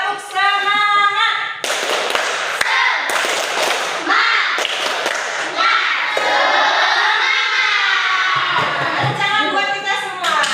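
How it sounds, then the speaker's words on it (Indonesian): A classroom of children performs the tepuk semangat clapping routine, chanting loudly in unison while sharp rhythmic claps and thumps punctuate the chant throughout. "Sebelum kita belajar, kita bertepuk semangat dulu, ya, supaya kita tidak bosan, ya."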